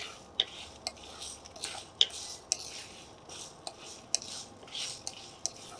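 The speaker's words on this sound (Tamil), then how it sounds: "இது எல்லாமே லைட்டாக நம்ம வறுத்துக்கலாம்" Light scraping and stirring of spices and curry leaves dry roasting in a pan, with small irregular clinks and taps of a utensil against metal, fairly quiet and close.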